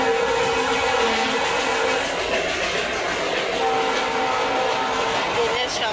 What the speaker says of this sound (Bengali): ট্রেনের শব্দ, ট্রেন যাচ্ছে আমাদের বাড়ির পাশে, ট্রেনের রাস্তা তো, ট্রেন যাচ্ছে।